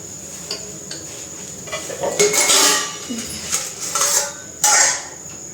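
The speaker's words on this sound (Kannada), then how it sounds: "ಪಾತ್ರೆಗಳವೆ, ಈಗ ಪಾತ್ರೆ ತೊಳಿಬೇಕು." Dishes and utensils are washed by hand at a home sink, with steel pots and spoons clattering and clinking in irregular bursts against a steady background hiss of running water.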